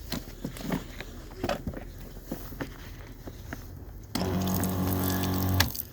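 A steady, loud spray of water bursts from a battery-powered sprayer after scattered clicks and handling noises, running continuously for over a second before cutting off.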